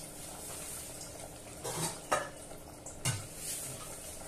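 Soft sizzling in a hot pan with a few sharp crackles and a stir, as spices fry for a tempering for saag; no voices.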